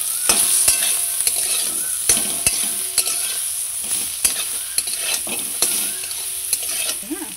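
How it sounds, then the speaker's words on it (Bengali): Kochur loti (taro stolons) being stirred with salt and turmeric in a pan, a steady frying hiss with repeated close scrapes and clicks of the spatula against the pan, no voices. "ভালো করে একদম নেড়ে নেব।"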